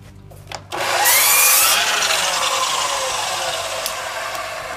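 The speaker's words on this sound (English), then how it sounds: "You want your saw on zero, and you want to miter it down like this." A miter saw motor whines up loudly and slices through a baseboard, the sharp cutting burst easing into a long, slowly fading spin-down after a few brief clicks.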